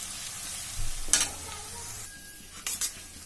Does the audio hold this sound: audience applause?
no